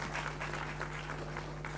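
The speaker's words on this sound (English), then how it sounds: "please feel free to clap if you want to clap." Steady applause from a church audience at a talk show, a dense wash of clapping holding at an even level throughout, with a low hum underneath.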